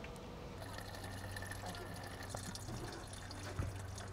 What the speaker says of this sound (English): Watch the color of this as I pour it.